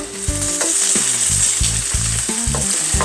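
Eggplant fries in olive oil with garlic, a loud, steady close sizzle with rhythmic spatula scrapes and knocks against the pan, and there is no talking.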